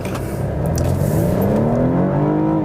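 A 2014 BMW 228i Coupe accelerating hard from a standstill toward 60 mph, its engine note climbing steadily and loudly in pitch, heard close up from inside the car with no talking.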